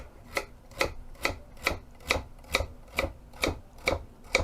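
A knife slices potatoes into half-centimetre rounds, producing about ten crisp, evenly spaced cuts against a board in a steady rhythm, close and clear.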